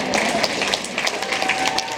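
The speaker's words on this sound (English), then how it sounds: "Round of applause." An audience at a high school hall of honor event claps in a steady, dense round of applause, close and continuous for a couple of seconds.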